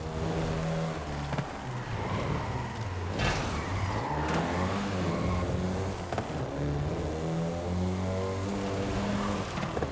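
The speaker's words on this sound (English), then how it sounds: "the Golf GTI you're driving right now" A Volkswagen Golf GTI driving in Forza Horizon 5, a continuous engine note rising and falling as it shifts through gears and revs, with a couple of sharp clunks along the way.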